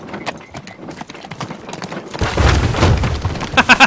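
Horse hooves in the video game İmar Barışı Simulator: soft thuds at first, then a denser rumbling patter with a few sharp, loud hoof strikes near the end, with no talk over it.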